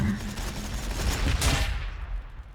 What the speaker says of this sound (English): bikers firing